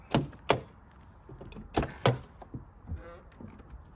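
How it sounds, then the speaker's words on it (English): A New Beetle (Volkswagen) car door is worked open from inside, a run of sharp thunks and knocks in pairs followed by softer clicks and rattles, close up. "Don't know why the door wouldn't open, it was unlocked."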